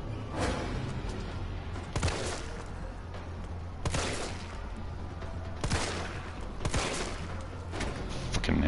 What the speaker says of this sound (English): this is where we get to do some shooting practice